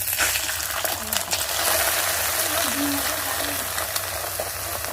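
An egg broken into browned onions frying in oil in a pan, giving a constant close sizzle with occasional small clinks of a utensil.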